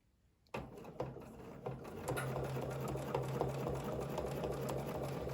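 Domestic sewing machine stitching steadily with a ruler foot while quilting an overall design, starting after a short quiet moment and then running as a close, continuous mechanical whir with a regular needle rhythm.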